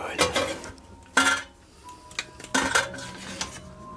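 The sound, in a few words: pot being handled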